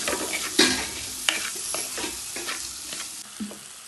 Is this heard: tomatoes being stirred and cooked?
yes